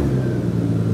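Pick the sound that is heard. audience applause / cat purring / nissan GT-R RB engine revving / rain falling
nissan GT-R RB engine revving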